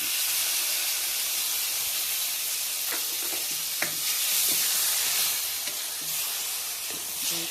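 Chopped tomatoes hit hot oil with browned onions, giving a steady, loud hissing sizzle with a few scraping stirs partway through, no voices.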